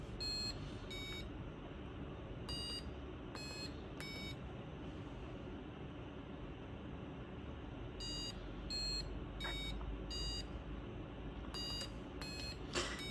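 A small electronic buzzer in an LED pattern game project gives sharp, high beeps in irregular clusters, single and paired pulses separated by pauses, over a low steady background hum.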